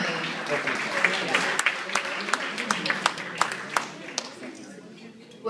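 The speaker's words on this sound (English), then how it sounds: "A round of applause" Audience applause at a national conference dinner: a moderate, scattered round of clapping with sharp individual claps standing out, steady for several seconds before thinning toward the end.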